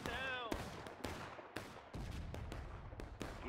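Gunfire rings out in the War of Rights multiplayer Civil War game during a campaign battle at Pry Ford, with repeated loud muzzle-loading rifle volleys cracking at irregular intervals through a busy battlefield din.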